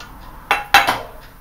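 A small camping pan of about 100 ml, part of an alcohol stove cook set, gets handled with two or three sharp metallic clinks close by against quiet background.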